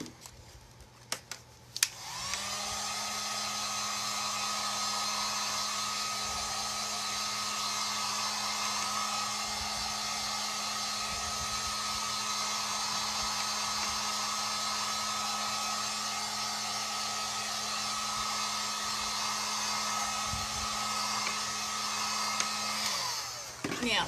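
A hair dryer blows steadily on wet paint on a metal tray, a loud continuous whoosh and whine running nearly the whole time after a few brief clicks at the start.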